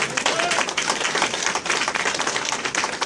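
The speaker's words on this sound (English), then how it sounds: "So if you're a predator hunter, you owe Bob a big round of applause" An outdoor expo seminar audience applauds, with dense, steady clapping from a crowd that stays fairly loud for about three seconds.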